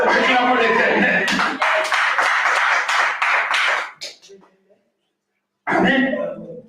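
A church congregation applauds in rhythmic, loud clapping for about four seconds, fades out into silence, then the clapping bursts back in near the end.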